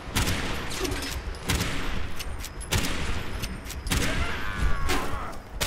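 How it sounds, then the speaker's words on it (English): Combat in Fallout 76 as a cryogenic grenade goes off: loud, dense bursts of gunfire and several heavy thumps follow one another in quick succession, with no speech. "Cryogenic grenade, there we go."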